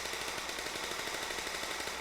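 Rapid automatic gunfire rattles continuously through echoing hallways in an audio drama, a dense rhythmic burst of shots with no talking.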